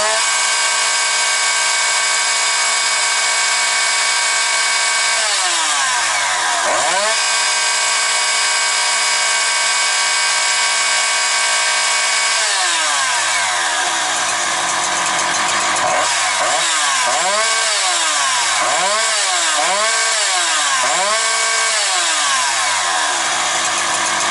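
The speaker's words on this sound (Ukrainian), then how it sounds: "Давайте заводимо, дивимося, зараз глянемо, що тут скаже на цьому." A Husqvarna 365 chainsaw engine runs loud and close, holding a high steady whine before dropping and revving up again in repeated sharp throttle blips, with no voices over it.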